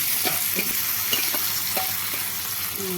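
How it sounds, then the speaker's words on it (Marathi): Sabudana (tapioca pearls) stirred with a spoon in a pan with boiled potato, a soft scraping and gentle sizzle heard close over a constant background hiss, with no talking. "साबुदाणा टाकून छान याला चम्मची तर अपन छान थापून टाकते नुसतं मिळवायचं याच्यामध्ये साबुदाणा"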